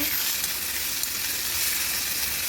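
Cashews and garlic fry in a pan with tomatoes until brown, a steady, close sizzling hiss that stays even throughout without talk.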